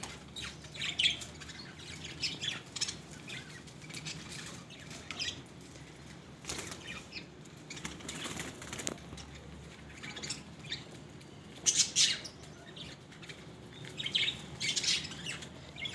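Pigeons, including flying birds, are heard at a rooftop loft as faint intermittent calls and soft bursts of wing flapping against quiet background noise.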